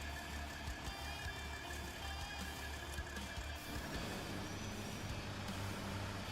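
Recycled truck engine sounds in the SnowRunner video game: a steady low diesel drone with a faint whining tone above it, continuous and moderately quiet, no talk.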